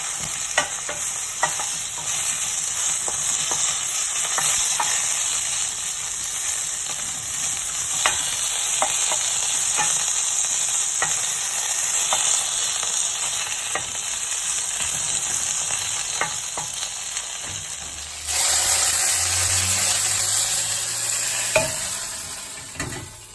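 Sausages fry in a little oil in an Aldi non-stick fry pan, a steady close sizzle with light crackles and no talking.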